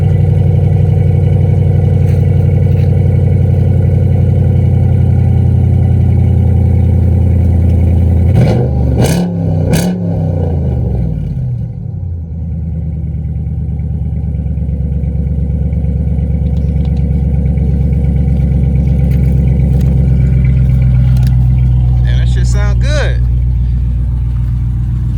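A used Dodge Charger with a 3.7 engine and 34,000 miles idles with a low steady hum. Partway through it gets a couple of sharp throttle blips that rise and fade, with a voice heard over the engine.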